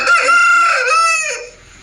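A crossbred fighting rooster of Raja and Brazil lineage crows loudly and close by, one long drawn-out call that rises and then trails off, with no talking over it.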